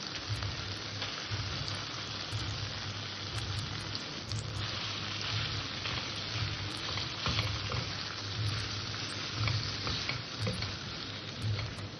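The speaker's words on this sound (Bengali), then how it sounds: "এভাবে মশলার সাথে নেড়ে চেড়ে আমি ওলটাকে ভালো করে কষে নেব" Elephant foot yam stir-fried with spices in oil, a continuous broadband sizzle with scraping stirring, steady and close for the whole stretch.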